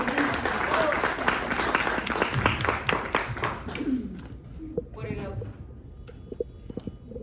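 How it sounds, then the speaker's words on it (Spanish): Audience applause closing a panel discussion on Central American women, journalism and human rights, dense at first and thinning to scattered claps, with voices mixed in. "Y cerramos con el aplauso."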